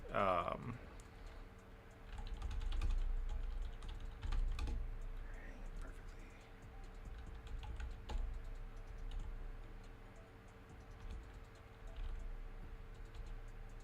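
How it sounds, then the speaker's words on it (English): Quiet, continuous typing on a computer keyboard during an online tabletop game session, soft irregular key clicks running throughout under low room noise. "I'm just typing away to a player who's going to be joining us next week"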